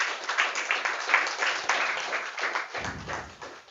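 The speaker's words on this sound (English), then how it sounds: "Clap for them. They've done well." Audience of students and teachers at a school debate competition clapping for the participants, a moderately loud, steady burst of applause with a low thump near the end.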